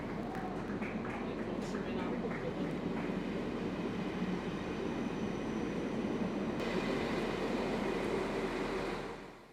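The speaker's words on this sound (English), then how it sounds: "all the VIPs boarded the railjet train before it left Graz Hauptbahnhof bang on time" A railjet passenger train departs Graz Hauptbahnhof on the Koralmbahn line, giving a steady, broadband rumble of rolling rail cars with faint clicks and squeals throughout.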